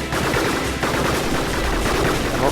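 Robots trading fire in the arena combat game Gladiabots, dense rapid bursts of gunshots overlapping one another continuously at close range, loud and relentless.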